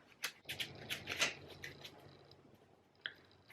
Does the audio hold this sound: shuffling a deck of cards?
yes